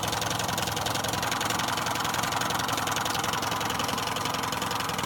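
A 1971 Johnson 6hp outboard motor running steadily up close, a rapid, even buzzing putter with a slight knocking texture, alone without talk.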